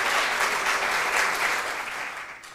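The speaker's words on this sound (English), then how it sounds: "A big round of applause for our contestants." An audience at a school quiz competition gives the contestants a round of applause, a thick, continuous burst of clapping heard up close that gradually tapers off.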